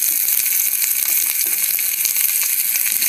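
Zucchini stir-fries in a hot pan with a dense, loud, continuous sizzle and crackle, close up, with faint stirring scrapes and no talking.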